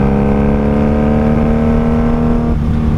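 A 1995 Honda Magna VF750C cruiser motorcycle engine is heard while riding in fifth gear, a loud steady drone with strong harmonic hum from up close, briefly dipping in pitch near the end, with no talking.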